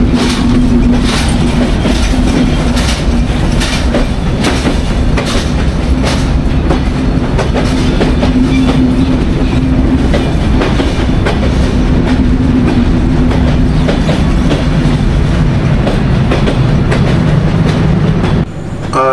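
The Chitra Express train runs loud and steady, heard from inside an AC berth cabin: a continuous rumble with rhythmic clickety-clack of wheels over rail joints and a steady hum, with no talking.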